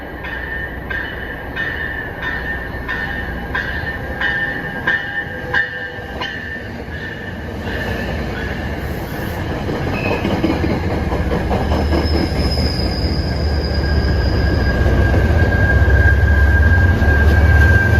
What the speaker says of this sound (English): an 8-car train. These are the kind of trains these engines were built for.